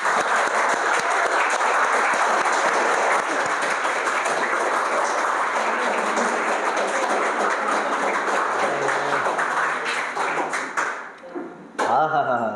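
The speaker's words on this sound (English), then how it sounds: "Let's have a round of applause for all the groups present here." Sustained applause from an audience honoring student presentation groups at a class IX and X competition, dense steady clapping for about eleven seconds before tapering off, with a brief voice near the end.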